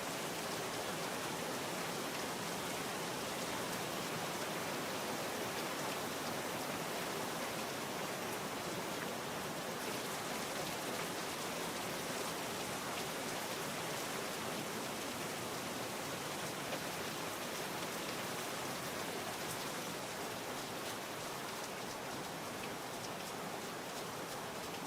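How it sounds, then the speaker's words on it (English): Steady, heavy rain hisses continuously in the video game Virtual Hunter, a dense even downpour with no letup and no voices. "Ah, the rain sound doesn't stop yet."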